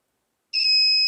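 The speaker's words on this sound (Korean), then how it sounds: "18650 배터리에다가 작은 DC 부저를 연결을 해서 하면은 소리가 나게." A small DC buzzer powered by an 18650 battery and rigged as a continuity tester switches on after a moment of silence, giving one loud, steady high-pitched tone that holds to the end.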